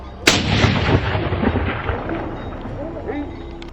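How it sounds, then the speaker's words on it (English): During a wild boar hunt in a forest, one sharp gunshot cracks loudly near the start, then a heavy rumbling echo rolls on and slowly fades under a low murmur. "The double pressure of barking dogs and successive gunfire turned the forest into a giant trap"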